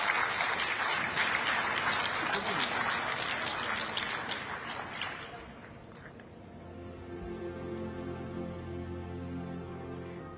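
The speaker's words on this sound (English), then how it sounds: "please do give our wonderful panellists a big round of applause" A large summit audience applauds panellists with sustained, dense clapping for about five seconds, which then dies away into room murmur and faint background music.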